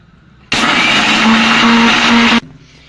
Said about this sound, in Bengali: দিয়ে দেব চিনি, আমি একটা পেস্ট করে নেব মিক্সিতে